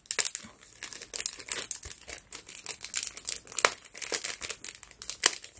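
Paper flower embellishment being peeled off a sheet during papercraft, giving irregular bursts of crinkling and tearing rustle close by, with no talk.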